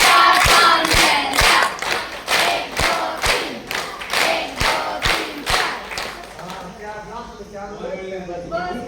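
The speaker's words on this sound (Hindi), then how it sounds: "गुरुजनों के लिए एक ताली बजवाई थी" At a government school Haryanvi folk dance workshop, an audience claps for the teachers in sharp, loud, unison beats about twice a second. The clapping breaks off near the end as a voice starts speaking.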